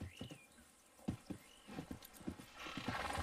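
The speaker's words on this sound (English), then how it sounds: "Alright, we have a horse." Faint hollow clip-clop of horse hooves in a Red Dead video game, in an uneven walking rhythm, with a short whinny-like whistle near the start.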